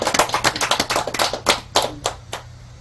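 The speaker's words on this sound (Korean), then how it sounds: "우리 힘을 모아서 박수 한번 쳐드립시다" Scattered applause rises from the congregation at a Buddhist dharma service, a Baekjung Ullambana ceremony at a temple. It comes as a brief, uneven burst of hand claps that thins out toward the end.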